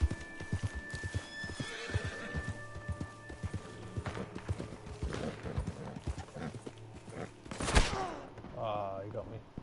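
A horse whinnies and snorts while hooves clip-clop in quick, uneven beats, with sharp bangs like gunfire and a voice talking over the commotion.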